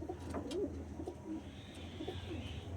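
Pigeons cooing at close range, soft rolling coos repeated over faint background hum, with a light rustle near the end.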